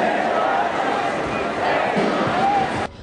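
A large Polish crowd at Wawel shouts and applauds as the funeral procession of the presidential couple passes, with a dense, sustained roar of voices and clapping that cuts off abruptly near the end.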